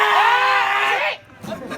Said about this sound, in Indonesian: Jangan pakai teriak-teriak dong